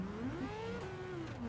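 A racing car engine in Gran Turismo 7 during an online race revs steadily, its pitch rising and falling with throttle changes, loud and continuous throughout.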